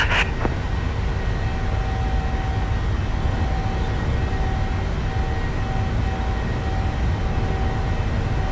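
Steady broadband jet engine roar of a simulated Ryanair Boeing 737-8AS rolling down runway 02 at Lisbon, loud and unchanging, with a short click near the start and no talk.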